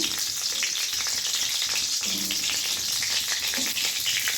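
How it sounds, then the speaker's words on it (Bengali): A torn bay leaf and two cracked cardamom pods sizzling in hot mustard oil, a constant crackling fry with soft stirring taps. "এবার একটা তেজপাতা ছিঁড়ে দিলাম, 2টো এলাচ ফাটিয়ে দিলাম।"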